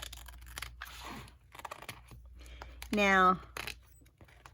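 Scissors snip through paper for a Christmas journal in short, crisp cuts, with a person talking over and between the snips.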